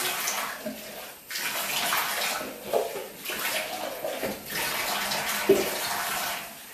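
Water runs steadily into a bathtub, rinsing baking soda and vinegar off the surface, a continuous close hiss and splash with small dips and sloshes.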